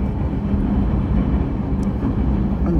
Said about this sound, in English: That one is a J train, as always, going to Manhattan, coming from Queens